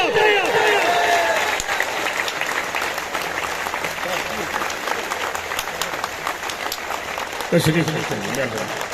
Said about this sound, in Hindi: आप भरपूर तालियां बजाएं